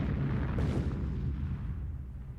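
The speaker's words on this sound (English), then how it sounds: "the whole shack goes up in a fiery explosion!" A whole shack blows up in a fiery explosion in an audio drama, a loud deep blast that rumbles on and slowly fades away.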